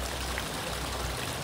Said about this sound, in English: And the water that beautifully runs, and it blocks all the horrible sounds out of the street.